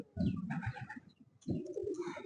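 Pigeon, a fully feather-footed breed with covered legs and a closed tail, cooing in two close bursts of throaty murmuring, loud and near with no talk.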